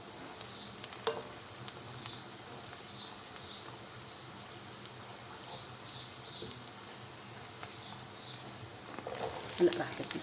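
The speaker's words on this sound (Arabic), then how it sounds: "راح اقلب الكزبرة شوي" Chopped coriander and onion fry quietly in hot oil in a pan, a faint steady sizzle running throughout with a few soft scrapes and clinks of stirring.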